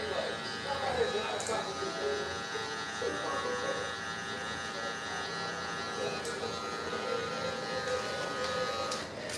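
Corded electric hair clippers buzz steadily and close during a live barbershop haircut, a continuous tonal hum running throughout while someone talks over it.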